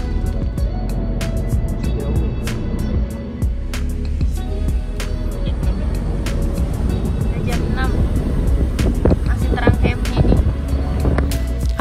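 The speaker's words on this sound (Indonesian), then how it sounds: "Dan ini adalah suasana di dalam mobil." Inside a Hyundai H1 van on a Jakarta to Bali road trip, a steady low road and engine rumble fills the cabin, with scattered clicks and rattles and people talking.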